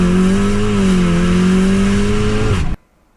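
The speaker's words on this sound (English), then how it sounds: "because it's so light, it just seems to ping up through the gears in no time" A 560 BHP methanol-injected Golf R accelerates hard through the gears, its loud engine note climbing steadily at close range for nearly three seconds before cutting off abruptly into near silence.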